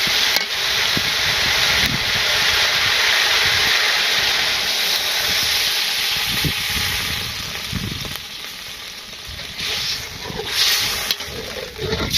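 Water poured into a hot pan of sautéed vegetables in a village kitchen sets off a loud, steady hiss and sizzle that gradually fades as the liquid settles.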